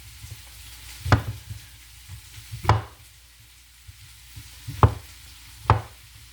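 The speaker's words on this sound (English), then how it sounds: "Basically, just until they stop fidgeting around is when you can stop chopping." Knife chopping mushrooms on a cutting board, four sharp, fairly close knocks spaced irregularly over a quiet background with faint softer taps between.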